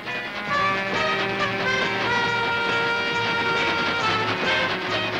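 A steam train runs in a cartoon, with a steady loud rumble carrying sustained whistle-like tones over the rolling clatter of its wheels.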